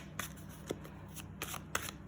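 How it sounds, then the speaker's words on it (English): Crisp riffling of a smooth tarot deck being shuffled, with quick bursts of flicking and soft slaps, close up and alone. "So it shuffles really nicely, feels smooth."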